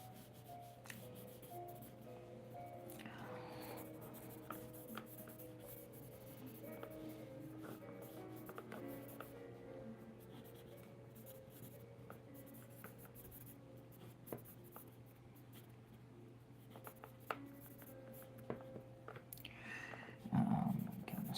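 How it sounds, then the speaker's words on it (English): A pencil scratches and rubs across paper in quick, light strokes while a gesture sketch is drawn by hand. The sound is quiet and close, runs continuously over a faint steady hum, and becomes a louder rustle at the end. "Just drawing a gesture drawing"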